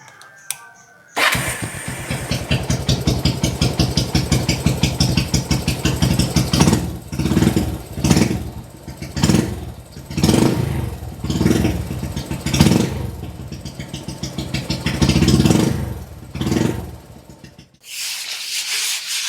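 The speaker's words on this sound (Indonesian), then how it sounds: "Coba teman-teman lihat, perhatiin nanti knalpotnya kita nyalain lagi." A motorcycle engine with an oversized carburetor pilot jet, running rich and puffing black exhaust smoke, starts up and runs close by for about sixteen seconds, blipped in a series of throttle revs over a rough idle before cutting off.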